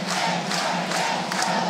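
A college baseball crowd at an East Carolina versus Louisville Super Regional game roars steadily, a loud, dense wash of cheering voices.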